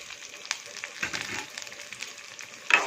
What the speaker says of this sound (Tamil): எல்லாம் போட்டு சவக்க வறுத்துக்கலாம்.